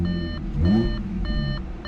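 A repeating electronic door-open warning chime in a 2015 Audi S4 beeps at a steady rhythm, nearby and moderately loud, with a steady hum beneath it.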